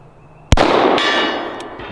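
A single sharp pistol shot cracks close and loud on an outdoor range aimed at a target, followed by a ringing metallic clang and a lingering decay.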